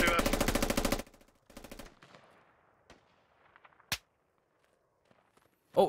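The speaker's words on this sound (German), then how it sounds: "irgendwer schießt auf mich, irgendein Sniper." Gunfire in the military shooter game Squad: a loud rapid automatic burst, then shorter bursts, a sharp single sniper crack around the middle and another shot at the end, with faint scattered battlefield noises between.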